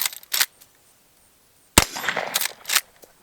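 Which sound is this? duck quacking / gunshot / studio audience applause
gunshot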